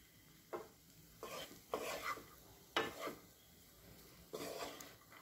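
A pan of vegetable fried rice is stirred in short bursts, each scrape and toss bringing a soft sizzle against a quiet hiss between strokes.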